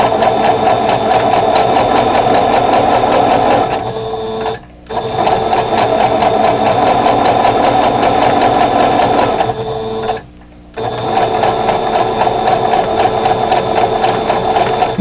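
A sewing machine stitches pieces of batting together in a loud, steady whirring run, pausing twice briefly before resuming its continuous mechanical hum.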